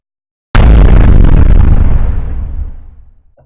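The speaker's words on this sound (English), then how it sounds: "it sounds quite a bit like that first explosion" A designed rocket explosion sound effect hits suddenly after a moment of silence, a loud booming blast with deep low-end weight that decays smoothly over about three seconds.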